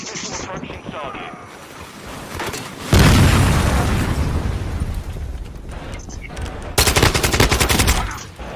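A cruise missile strike and gunfire in the video game Modern Warfare 2: a sudden heavy blast that rumbles on for several seconds, then a burst of rapid automatic fire, with quieter game noise before it.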